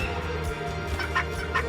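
A turkey gobbles in a few quick bursts, fairly close and loud over a steady low background hum, with no talk.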